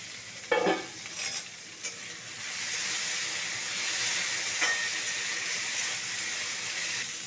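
Okra and potato fry in a covered pan with a continuous soft hissing sizzle, steady and close, and a few light knocks near the start, with no talk.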